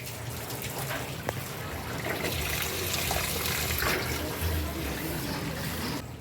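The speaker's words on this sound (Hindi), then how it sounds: "कूलर का गंदा पानी जो है वो बाहर निकाल रहे हैं।" Dirty water drains out of an air cooler being cleaned, a steady splashing and trickling rush that runs continuously for several seconds, fairly faint, with no talk.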